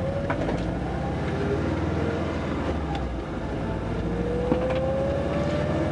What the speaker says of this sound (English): Maybe I have a vacuum leak. Now it's idling high.